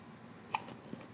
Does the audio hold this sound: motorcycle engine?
no